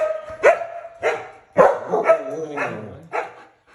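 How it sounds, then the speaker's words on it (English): Several customers' dogs bark in short sharp bursts spaced a second or so apart, close and loud, with whimpery yips between them in a house being painted. "these are my customers' dogs"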